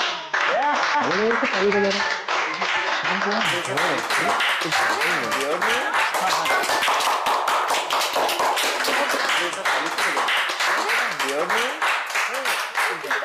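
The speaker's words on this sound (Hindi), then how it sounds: "लगता है किसी का बर्थडे है, चल हम लोग भी ताली मारते हैं" A group of people claps for someone's birthday, a loud, dense patter of hand claps that keeps going throughout, mixed with cheerful voices and chatter.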